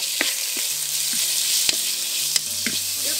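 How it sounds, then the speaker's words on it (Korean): Meat stir-fries in sesame oil in a soup pot, giving a steady close sizzle and crackle, with a few sharp clinks of the spatula scraping against the pot. "참기름으로 고기를 좀 볶아가지고 쓸게요."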